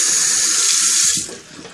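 Hands being washed under a running tap at a sink, a loud close splash of water for about a second before it tapers off.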